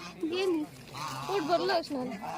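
Several nasal quacks and honks from ducks nearby at a lake, overlapping in quick succession for a couple of seconds.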